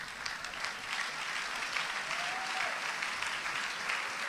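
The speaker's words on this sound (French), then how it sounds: "on peut acclamer." Church congregation applauding after a sermon, a steady wash of clapping from many hands, moderately distant, continuing throughout without pause.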